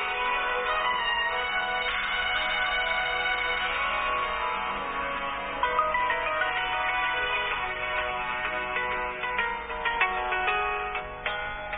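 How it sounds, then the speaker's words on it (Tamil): A mobile phone rings continuously with a bright, music-like ringtone that holds steady at moderate loudness for about twelve seconds, with no talking over it. "இதான் என்னோட இன்னொரு மொபைல், அது வந்து ரிங் ஆகிக்கிட்டே இருக்கும்."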